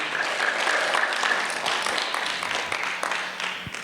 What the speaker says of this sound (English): Let's get a big round of applause for your G&T teachers and Mrs. Vreeland.